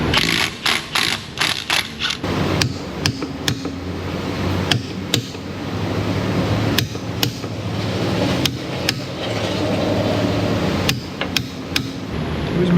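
A socket wrench breaks hub bolts loose in a workshop, giving repeated sharp metallic clicks and knocks. Some come in quick clusters and others are spaced irregularly, all close by over a steady background hum.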